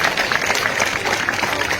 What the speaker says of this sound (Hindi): Give a big round of applause for all the dignitaries, guests and your parents.